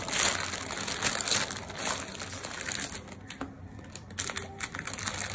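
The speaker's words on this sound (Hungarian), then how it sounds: "Kezdjük is el kibontani." Panini Adrenalyn XL card packs for the FIFA World Cup 2022 Qatar are torn and unwrapped, foil wrappers crinkling and crackling continuously up close.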